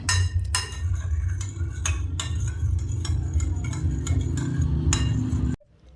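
A spoon stirs broken-up curd starter into lukewarm milk in a bowl, clinking repeatedly against the side in an irregular rhythm over a soft swishing of liquid, close and clear, before stopping abruptly.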